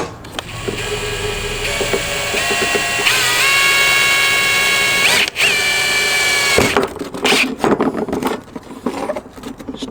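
A power drill drilling holes in a metal ammo can whines and spins up in bursts, pitch rising as it bites, followed by rattling clatter and scraping of metal.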